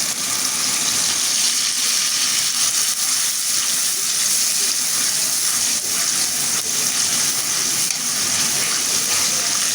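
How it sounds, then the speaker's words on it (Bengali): Water is poured into a cooking pot of frying ginger, garlic and cumin paste for a country chicken curry, a loud continuous rushing gush and hiss that runs unbroken for the whole stretch. "একটু পানি দিয়ে দেবো"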